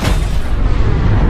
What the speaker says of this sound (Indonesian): sebuah peluru pelontar dengan kecepatan penuh meluncur ke arahnya